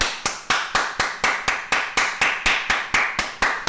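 Sharp, evenly spaced claps, about four per second, loud and dry with each hit decaying quickly, repeating steadily like a programmed clap beat in an FL Studio track.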